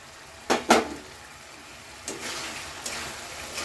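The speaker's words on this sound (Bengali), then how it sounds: "দিয়ে কিন্তু এটা খুব ভালো করে কষতে হবে" Fried mung dal being sautéed in a pan, with two sharp utensil scrapes near the start followed by softer, intermittent stirring strokes over a quiet sizzle, close by.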